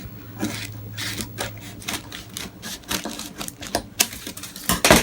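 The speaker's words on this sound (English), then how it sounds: "I'm just going to cut around with a pair of scissors." Crisp snipping and rustling of scissors cutting through parchment paper, a steady series of short cuts up close, with no talking.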